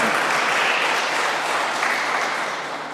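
Church congregation at a Korean Sunday service in Paris applauding together, a dense steady clatter of many hands filling the room for about three seconds and easing slightly toward the end.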